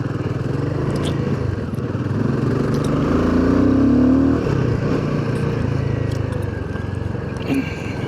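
An adventure motorcycle rides across a beach, its steady engine drone continuous and fairly loud under wind buffeting, with a brief rise in revs midway.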